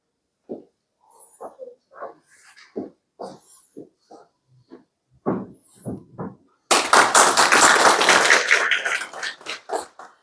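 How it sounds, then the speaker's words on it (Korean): Audience applauds for an association chairman at a Gyeongju educators' workshop ceremony, a sudden dense burst of clapping that swells loudly and then tapers, following a stretch of speech. "이호 회장님께 다시 한번 감사의 박수 부탁드리겠습니다"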